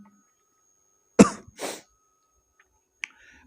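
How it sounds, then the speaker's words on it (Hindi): A single sharp cough, then a shorter throat-clearing huff and a small click, close and otherwise quiet. "थोड़ा सा खांसी आ गया"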